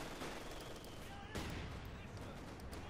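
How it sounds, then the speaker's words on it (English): Machine gun fire in Company of Heroes 2, weapons blaring in support of advancing Grenadier infantry, heard as dense, continuous crackling bursts with a sharp surge midway and a commentator talking over it. "machine guns blaring in support of the Grenadier"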